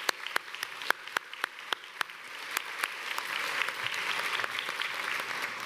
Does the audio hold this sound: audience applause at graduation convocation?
yes